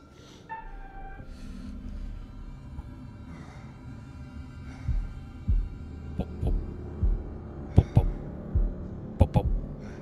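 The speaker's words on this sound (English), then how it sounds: "a heartbeat thing." Heartbeat effect in the Man of Medan horror video game, a low thudding pulse repeating in pairs toward the end, loud and close over a dull droning hum.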